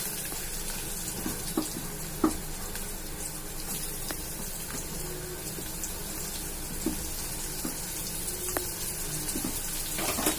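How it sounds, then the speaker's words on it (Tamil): Onions sautéing in a pan for a dosa and vadagari dinner, a steady close hiss and sizzle with faint crackles and occasional small clicks, no talking. "ஆனியன் போட்டு வதக்கிக்கணும்."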